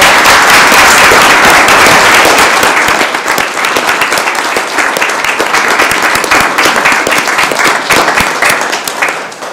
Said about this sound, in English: Let's give them a round of applause for all their